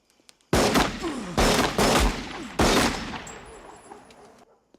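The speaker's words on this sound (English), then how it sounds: "Oh, he's going to shoot him." Gunfire in The Shawshank Redemption rings out as three loud, sharp shots in quick succession, each with a long reverberant tail, the last one decaying slowly into quiet.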